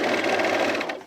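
A sewing machine top-stitches the sides of denim jean shorts in a brief, close, steady mechanical whir of rapid stitching that slows and stops at the very end.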